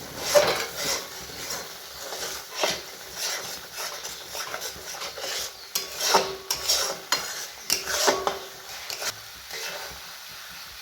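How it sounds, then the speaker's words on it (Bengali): A spoon stirs and scrapes through chicken do-pyaza masala with cashew paste added, giving soft sizzling and repeated wooden scraping knocks against the pan, steady and close, with no talking. "দিয়ে আবারও ভালো করে মিশিয়ে নেব"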